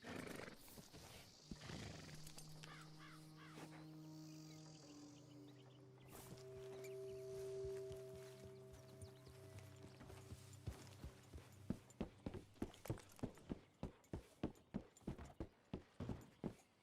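Horse hooves clip-clop steadily while riding in the video game Red Dead Redemption 2, the beats getting louder and more rhythmic toward the end, with tonal game sounds and a whinny-like cry earlier on.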